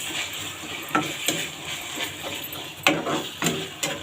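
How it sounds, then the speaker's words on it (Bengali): Egg curry spices being stirred in a frying pan, with a steady soft sizzle and a few louder scrapes and clinks of the utensil against the pan spaced across the moment. "10 মিনিট পর আমি একটু নাড়া দিয়ে দেখবো, মশলাটাকে কষায় নিব।"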